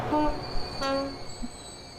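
An old 1988-era train departs in the Transport Fever video game, with two short horn blasts separated by a pause, followed by a fading low rumble.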